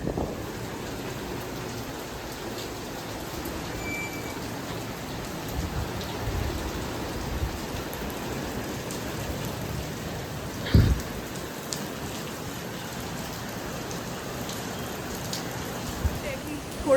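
Steady rain falls on a garden vegetable patch, a dense even hiss of drops on surfaces with a few louder nearby splashes and knocks; quiet and continuous throughout.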